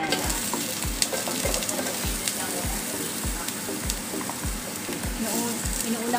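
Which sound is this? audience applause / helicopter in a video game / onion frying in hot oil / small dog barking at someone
onion frying in hot oil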